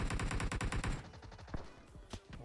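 Rapid automatic gunfire in the mobile battle-royale game PUBG Mobile on the Miramar map rattles out in a tight, loud burst, followed by a few scattered, sharper single shots.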